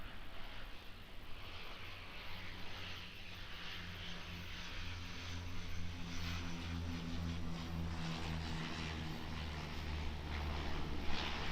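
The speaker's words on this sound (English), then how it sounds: "One of the favourite aircraft of the channel there, the Q300." An Air New Zealand Dash 8 Q300 turboprop airliner at Auckland Airport gives a steady, droning engine and propeller hum with low tonal throb, growing gradually louder and fuller as it nears, with no voices.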